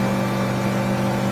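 Outboard motor on a Smokercraft Osprey boat with a 70-horsepower engine, running steadily around 5,000 RPM at cruise speed, a loud continuous drone with no talk.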